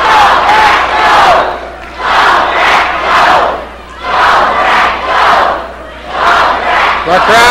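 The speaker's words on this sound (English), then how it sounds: "The crowd cheering for Bret Hart." A wrestling crowd chants and cheers for Bret Hart in loud rhythmic surges that rise and fall about every second and a half, many voices roaring together in an arena.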